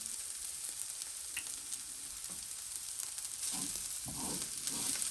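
Ground beef fried in a pan with chopped onions, giving a continuous close sizzle that grows louder and denser toward the end, with a few soft stirring scrapes.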